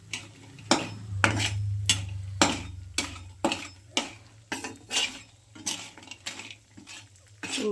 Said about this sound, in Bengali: সুন্দর করে লাল লাল করে ভেজে নেব